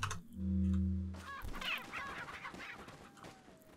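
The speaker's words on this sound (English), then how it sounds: "Shall I leave the chickens? They're laying fucking eggs." Chickens in the video game Resident Evil 4 cluck and squawk close by in short choppy calls, following a low humming tone at the start.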